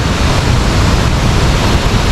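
Swollen, rain-fed river water roars over a dam spillway at A-ET Dam in Sulat, Eastern Samar, a loud, steady broadband rush that fills the whole stretch without pause and with no voices.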